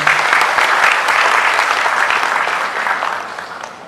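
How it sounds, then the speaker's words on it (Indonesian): An audience at an e-ticket launch ceremony applauds, a dense, loud burst of clapping from many people that holds steady and then begins to fade toward the end. "mari kita beri sambutan yang paling meriah, tepuk tangan yang paling meriah pada hari ini semua."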